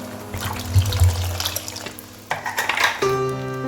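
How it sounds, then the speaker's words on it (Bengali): Water pours from a tap or jug into a pan of Bengali doi katla fish curry gravy, a steady liquid trickle and splash in a kitchen, with a clink of cookware near the end. "এবার আমি এর মধ্যে ঢেলে দেবো জল।"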